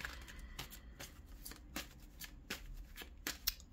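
Tarot cards being shuffled by hand, a quiet run of soft riffling flutters and taps repeating roughly every half second, close and alone with no talk.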